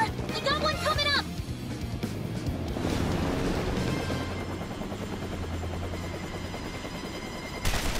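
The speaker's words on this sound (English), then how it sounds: "That helicopter is a shadow, and it's holding a Gatling gun." A shadow helicopter armed with a Gatling gun in Persona 5 Strikers, heard as a steady rotor drone with rapid gunfire bursts under the game's music and effects, with character voices at the start.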